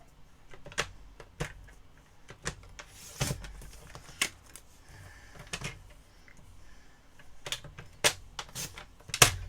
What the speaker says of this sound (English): we're going to just trim out our sentiments now